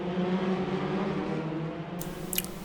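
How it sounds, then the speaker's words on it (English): Praga R1 race car engine at speed on a lap of Suzuka, heard from on board as a steady, loud droning hum with a brief burst of hiss near the end. "So let's get on board the Praga R1 and go for a lap around Suzuka."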